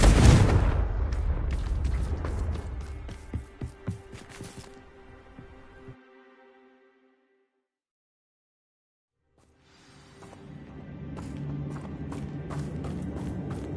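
Confringo fire-spell blasts in the Hogwarts Legacy video game go off during a goblin mine assault, a dense run of loud booming explosions and cracks that fades to silence midway, then rumbling battle noise returns.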